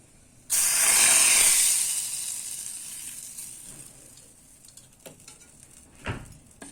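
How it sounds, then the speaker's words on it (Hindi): Asafoetida and red chili hit hot oil for a dal tempering, giving a sudden loud sizzle that swells and then slowly fades into a softer crackle, followed by a few light clinks near the end, with no talk. "अब इसका तड़का लगा देती हूँ मैं।"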